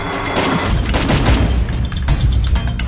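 Rapid gunfire in the video game Garena Free Fire, a dense, loud burst of shots and booms filling the whole stretch without pause.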